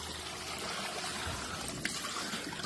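A thin trickle of water pours onto a small homemade water wheel driving a generator, a faint, steady dribble heard up close with a brief splash partway through.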